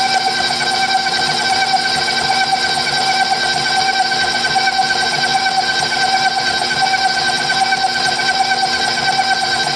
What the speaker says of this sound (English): we'll scrape it and we'll let it mix for a little bit more to get the eggs mixed in